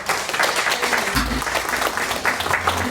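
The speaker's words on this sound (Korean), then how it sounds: "박수 하세요." A congregation clapping during a Sunday church service, dense, continuous applause from many people at close range, with brief low murmurs of voices mixed in beneath the clapping.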